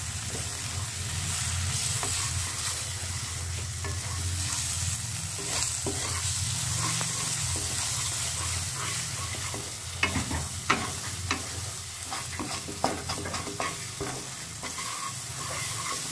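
Masala paste for palak chicken fries on medium heat with no water added, a continuous close sizzle overlaid with repeated spatula scrapes and stirring strokes that sharpen into distinct knocks in the later seconds.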